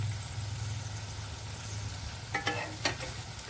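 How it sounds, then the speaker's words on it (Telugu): Okra (bendakaya) frying in a pan with spices, a soft steady sizzle close by, punctuated near the end by a few scraping stirs of the spatula, no voices. "ఇంకా కొంచెం వేగాలండి బెండకాయలు"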